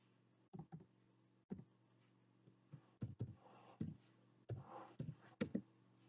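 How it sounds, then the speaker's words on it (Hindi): Typing on a computer keyboard, close and quiet, with short uneven bursts of key clicks separated by brief pauses. "यहाँ पे हम टाइप करेंगे"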